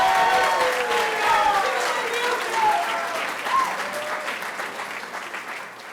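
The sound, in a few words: audience applause at graduation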